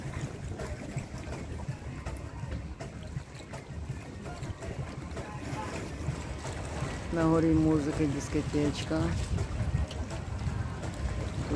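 Boats moored on the sea at Monaco harbor in the evening, a low steady rumble of water and wind with faint distant music, while someone talks throughout.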